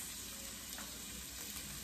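Carrots sizzle in a pan of oil for brown stew snapper, a steady soft frying hiss throughout, close but quiet.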